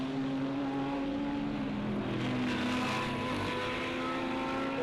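An Audi R8 race car circles a racing circuit with other cars, its engine a steady, moderately distant drone that swells slightly midway.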